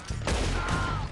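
A quick, loud volley of gunshots from Red Dead Redemption 2, several sharp cracks packed together into a brief burst.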